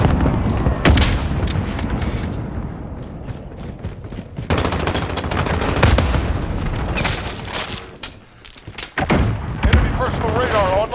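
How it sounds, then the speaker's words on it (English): Repeated heavy booms and blasts of a precision airstrike in the Call of Duty video game, loud and dense, mixed with gunfire and battle noise and broken by brief lulls, with game voices talking over parts of it. "Enemy precision airstrike inbound."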